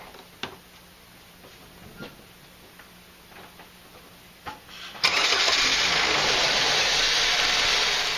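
Faint ticking clicks repeat for a few seconds, then a Saturn L-Series engine cranks and catches, settling into a steady loud idle that continues to the end.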